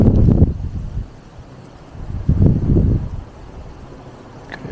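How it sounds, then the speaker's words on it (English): Wind blowing outdoors at night, gusts buffeting the microphone in two strong rumbling bursts separated by quieter lulls, with faint rustling in between. "It's getting very windy now, isn't it?"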